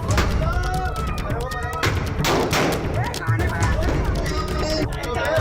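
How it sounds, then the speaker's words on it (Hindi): An illegal country-made pistol fires at a birthday party in Bulandshahr, with sharp bangs ringing out in quick succession amid crowd noise and voices. The shots are loud and close, and some overlap into a rapid burst. "भैया जी का जन्मदिन मनाने के लिए तमंचा ले आए, फायरिंग कर दी"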